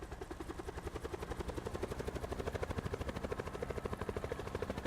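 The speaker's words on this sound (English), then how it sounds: "Oh shit, a helicopter." Helicopter in the Call of Duty video game, a steady rhythmic rotor chop with a droning engine whine, fairly loud and continuous throughout with no talking.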